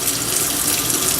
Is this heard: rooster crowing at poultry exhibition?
no